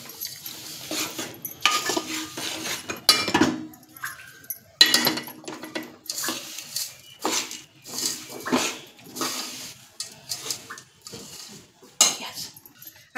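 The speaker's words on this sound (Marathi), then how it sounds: "आता आपण ह्याच्यात हे तीळ, शेंगदाणे, शिपीचे चणे, खोबरं हे सर्व एकत्र मिक्स करूया" Sesame seeds, peanuts, roasted gram and coconut being stirred into hot sugar syrup in a pan, with repeated clinks and scrapes of a spoon against metal in irregular bursts, close and moderately loud, no talking.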